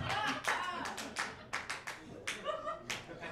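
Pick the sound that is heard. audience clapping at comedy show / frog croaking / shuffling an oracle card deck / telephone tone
audience clapping at comedy show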